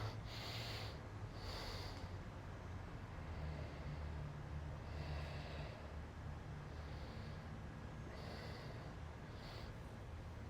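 Steady breathing during a deep hip stretch, slow inhales and exhales repeating every couple of seconds under a constant low hum, close and quiet with no talking.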